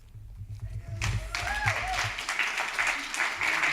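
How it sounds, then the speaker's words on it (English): An audience breaks into sustained applause after a poetry reading, the clapping swelling after a brief lead-in and holding steady and dense, with a voice speaking over it. "Can we get another round of applause for all of our readers?"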